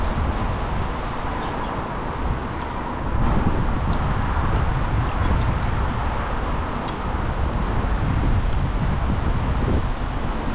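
Strong wind blowing steadily at an outdoor fishing and cooking spot, a continuous loud roar buffeting the microphone with no break throughout.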